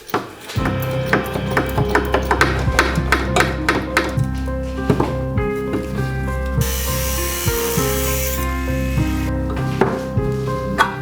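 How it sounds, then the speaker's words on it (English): An angle grinder cuts into the metal of a BMW E46 during a repair, its motor whining steadily beneath sharp clanks and knocks, with a harsher burst of grinding partway through. "here we go again, with an angle grinder in my hand"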